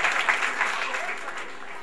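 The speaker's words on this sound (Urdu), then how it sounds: "حضور تالیوں کی گونج میں شاندار استقبال کیجیے" Audience applause welcoming a chief guest at a foundation event in Sialkot, a steady wash of clapping from a crowd that stays fairly even and then eases off slightly.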